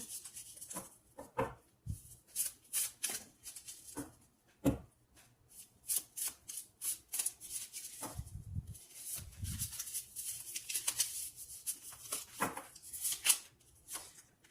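Tarot cards are shuffled and drawn by hand, producing soft riffling, sliding and tapping bursts in an uneven rhythm, close and fairly quiet, with brief pauses between handling sounds.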